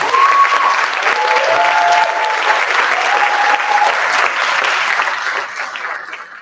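Crowd applause at a film festival opening ceremony on stage, dense sustained clapping from many hands that holds steady and then tapers off toward the end, with a few faint voices underneath.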